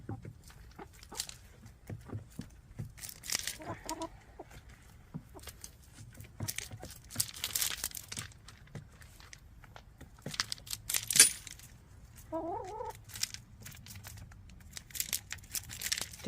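Chickens scratch and peck at grit up close, producing quiet, irregular rustling, crinkling and ticking sounds with soft clucking murmurs in between.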